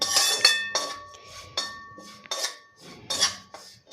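A metal utensil scrapes and clinks against a pan while cooked coriander bhaji is mixed with salt, giving repeated sharp metallic strokes close up with no talking.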